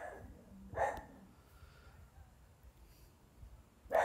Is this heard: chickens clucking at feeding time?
no